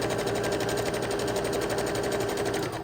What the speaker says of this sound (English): We are now sewing the top 2 rows to the bottom 4 rows.